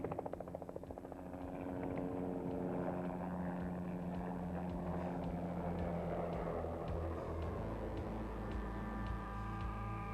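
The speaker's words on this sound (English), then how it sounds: "Notice the lovely sound of blade slap at the end of the manoeuvre." A scale model helicopter rotor beats steadily through a slow birdcage turn, a close, sustained whirring drone that swells and settles with rhythmic blade slap pulsing underneath.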